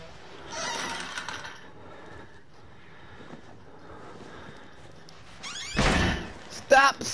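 A door bangs shut in the Outlast horror video game, a loud single slam late in the stretch after quieter ambience and brief speech, with a short voice after it.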